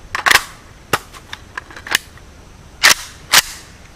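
A Romanian WASR RH-10 AK-47 rifle firing hollow point rounds outdoors, with several sharp, loud single shots spaced irregularly, some close together, each followed by a brief ringing tail.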